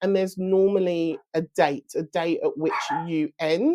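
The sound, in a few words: dog barking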